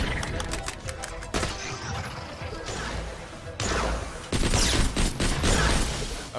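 Rapid gunfire and crashing impacts fill a firefight against turrets in the video game Borderlands: The Pre-Sequel, with dense bursts of shots and smashes continuing loudly throughout.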